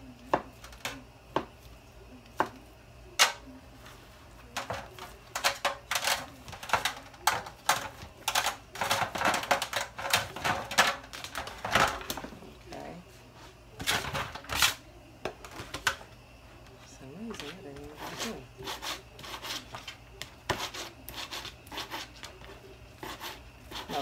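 A knife dicing ham on a cutting board in a kitchen, making rapid irregular taps and chops, close and fairly quiet, with no talking.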